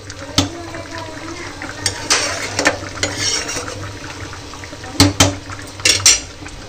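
Metal utensils clank and scrape against a hot kadhai as oil goes in for frying in a home kitchen, with sharp intermittent clatters over a low steady hiss and no speech.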